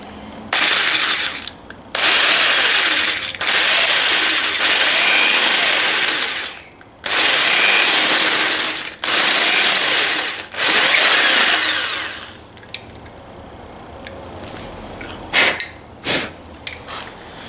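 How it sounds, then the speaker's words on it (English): A power drill bores a bigger hole for a helmet camera mount, running in loud bursts of a second or two separated by short pauses, then giving way to quieter scraping and clicks near the end, with no talking. "Now I'll just drill a bigger hole with a bigger drill"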